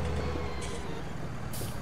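A tractor's air brakes in Farming Simulator 19 let out two short, sharp hisses of released air over a steady engine drone, the second burst louder and longer.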